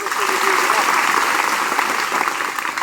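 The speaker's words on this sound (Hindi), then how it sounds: "अरे वाह, जोरदार तालियां" Schoolchildren applaud loudly at an outdoor environmental talk, a steady, dense wash of clapping that holds throughout, with some voices mixed in.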